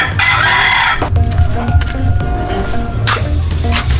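Backyard chickens at a provincial home, with a rooster crowing loudly and close, followed by clucking and scattered calls over a steady low hum of the yard.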